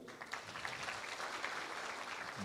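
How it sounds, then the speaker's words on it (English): Applause from an audience at the launch event of a Kenyan apple growers and exporters association, steady soft clapping heard from a distance at low volume, with no talk. "May you clap for them."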